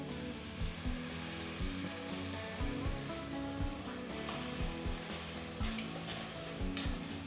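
Ground masala sizzles and fries in a hot pan while sagu is being made, giving a steady crackling hiss with regular stirring scrapes and clinks.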